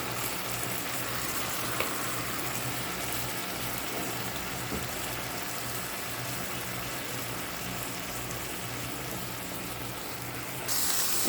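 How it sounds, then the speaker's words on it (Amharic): Chicken pieces frying in a little oil, releasing their own juices, a continuous soft sizzle and crackle heard close up with no talking. "ዶሮአችንን ደግሞ እዚህ ጋር እንጠብሳለን።"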